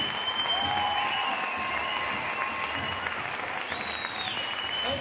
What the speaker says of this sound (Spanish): por ustedes, la gran muñeca, fuerte el aplauso.